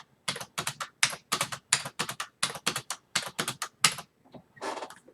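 Rapid keystrokes on a computer keyboard while entering text in Cricut Design Space, arriving in quick bursts of clicks separated by short pauses, close and clear, with no talking.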